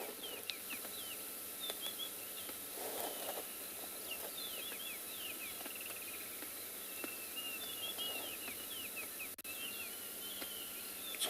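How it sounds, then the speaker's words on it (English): Wild birds sing at sunrise on a South African safari reserve, with many thin chirps and trills scattered through a steady outdoor ambience of insects, fairly distant and continuous. "Hear the wonderful birds."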